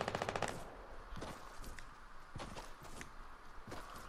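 Distant gunfire from a battle royale video game, with a few quick bursts of shots at the start and then scattered faint cracks and footsteps under low in-game ambience.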